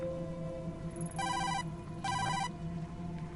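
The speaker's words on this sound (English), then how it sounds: "So I definitely hear my partner's phone." A mobile phone rings in the horror adventure game Tokyo Dark, two bright electronic ringtone bursts over a quiet humming background, moderately loud with no talking.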